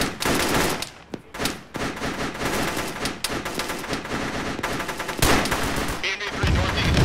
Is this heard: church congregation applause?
no